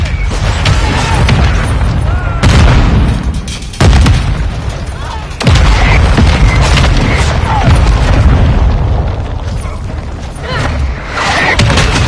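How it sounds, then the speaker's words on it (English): Friendly mortar strike in Call of Duty Modern Warfare 2, a loud, close barrage of booming explosions landing in quick succession over rumbling battle noise. "Friendly mortar strike inbound."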